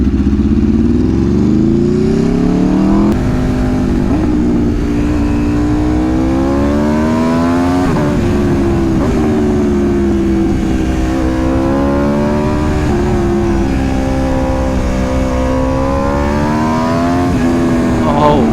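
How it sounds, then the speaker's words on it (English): A 2022 Aprilia RSV4 with an Austin Racing exhaust rides along and slows from low speed, its engine note steady and loud, with rising and falling pitch sweeps as it decelerates and burbles. "Triple RS, no matter which exhaust I think you put on this motorcycle, it sounds absolutely amazing."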